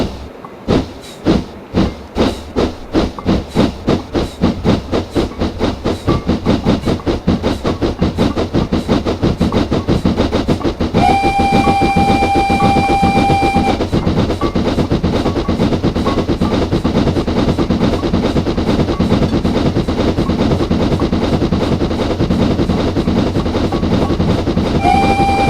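Steam locomotive in the Train Simulator 2016 video game chuffing loudly, with exhaust beats speeding up from slow distinct puffs to a rapid steady rhythm, joined by a sustained whistle blast partway through and another brief one at the end.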